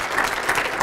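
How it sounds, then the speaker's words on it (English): An audience at an American Airlines A320 check airman talk breaks into applause, a brief, even burst of many hands clapping without speech. "Give a round of applause."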